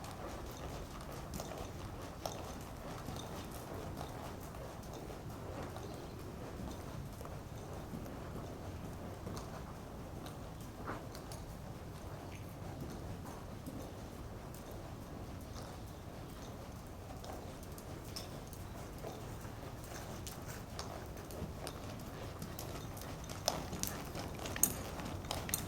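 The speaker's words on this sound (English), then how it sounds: "it allows me to press him with my legs, get him rounding his back up, and we get a nice soft little trot" A horse trots softly on soft ground, giving a faint, steady patter of hoofbeats with light wind noise outdoors and no talking.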